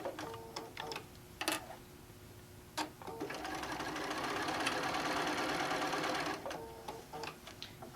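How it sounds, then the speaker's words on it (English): A sewing machine stitches a rod pocket onto the back of a quilt panel, running in a steady whirring burst of several seconds between short start-and-stop ticks and clicks, close and alone. "I am sewing the rod pocket"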